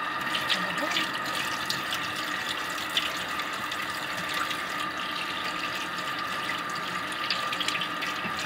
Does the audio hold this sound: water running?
yes